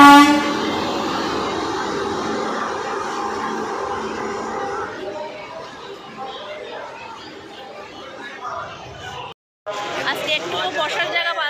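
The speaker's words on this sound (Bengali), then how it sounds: "আর এই যে আমাদের ট্রেন এসে গেছে" A train rumbles into a busy platform amid loud crowd chatter, with a brief horn, then a sudden cut to more close, noisy bustle.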